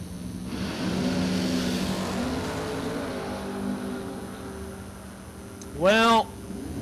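The Catfish Camaro drag race car at a drag strip event gives a sustained engine drone, then a sharp, loud rising rev burst near the end, heard at a distance with a crowd-like background.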